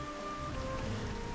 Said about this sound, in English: It is the middle of the night, it is pouring rain.